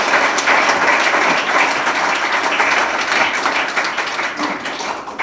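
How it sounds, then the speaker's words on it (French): Warm audience applause at a gala evening, a dense, steady wash of clapping hands held at full strength for about five seconds before easing slightly toward the end, with no talk over it. "je pense qu'on peut l'applaudir très chaleureusement."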